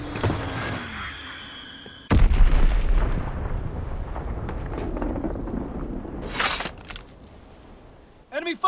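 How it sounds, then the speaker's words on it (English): A bomb explodes in the World War II shooter Call of Duty: WWII, a sudden heavy boom followed by rumbling debris and a later secondary blast, with speech in the game around it. "Enemy bomb incoming! Get to cover!"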